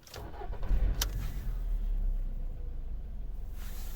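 A 2007 Volkswagen Cross Polo with a 1.6 petrol engine cranks briefly and catches, then settles into a steady close idle with no talking.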